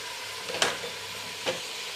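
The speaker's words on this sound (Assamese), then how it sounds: "এতিয়া ভালদৰে লৰাই ল'ম" Jackfruit curry with coriander, chili and turmeric is stirred in a pan, giving two brief scraping swishes over a soft, steady sizzle.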